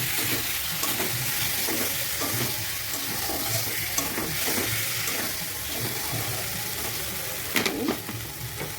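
Fried duck eggs being stirred in a pan of spiced gravy, a steady close sizzle with soft scraping stirs throughout and a brief louder clatter near the end.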